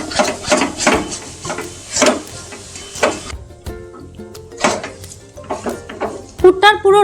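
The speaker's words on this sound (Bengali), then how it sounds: "আর এই মোমেন্টে কিন্তু আপনাদের অনবরত নাড়াচাড়া করতেই হবে, তা না হলে নিচ থেকে ধরে যাবে" A thick Gokul Pithe filling being stirred in a pan, with repeated scraping and knocking of a utensil against the pan in an uneven rhythm, plus a faint sizzle and someone talking over it.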